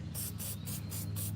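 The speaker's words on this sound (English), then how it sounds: "I give them like just a little shot of this flower spray paint" Short bursts of aerosol flower spray paint misted onto hydrangea blooms, a repeated hissing pulse of about five quick sprays over a steady low hum, close and fairly loud.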